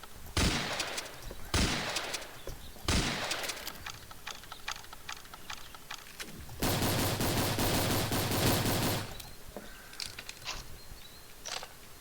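Gunshots ring out in the Fortnite Island Royale game: several sharp separate blasts early on, a sustained burst of rapid automatic fire in the middle, then scattered lighter shots and clicks.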